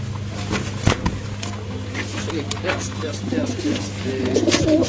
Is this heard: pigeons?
yes